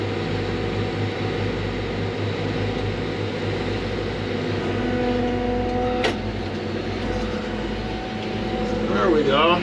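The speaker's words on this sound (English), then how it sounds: "So we're grinding 2 bales of weeds, 2 bales of millet, and a bale of alfalfa" A feed grinder working through bales of weeds, millet and alfalfa on a ranch, giving a steady droning mechanical hum with layered engine tones that swells slightly near the end, a short sharp clank partway through.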